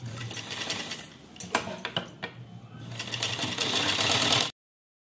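A sewing machine stitches pleats into a border blouse in short, whirring bursts broken by brief pauses, then runs continuously before stopping abruptly near the end.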